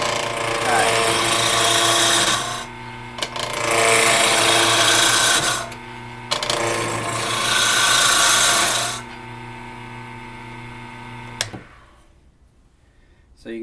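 A wood lathe gouge cuts a spinning square wooden blank down toward a cylinder, giving loud rough rasping bursts of a few seconds each, broken by short pauses, with the lathe motor humming underneath.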